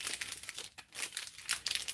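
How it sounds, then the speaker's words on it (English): An old snack food packet crinkles in handling, a close series of crisp, crackling rustles with short pauses between bursts. "It still crinkles."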